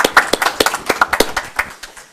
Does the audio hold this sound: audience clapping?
yes